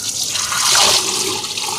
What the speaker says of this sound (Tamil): இந்த அரிசி கழுவின தண்ணியை ஊற்றிடலாம் நண்பர்களே